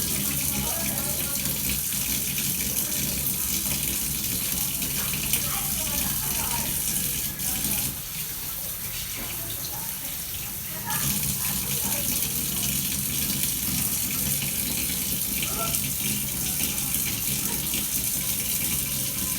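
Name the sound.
hand washing under running tap water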